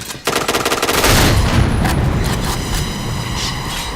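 Rapid automatic gunfire in a first-person shooter video game, a dense loud burst of shots with booming impacts that continues throughout.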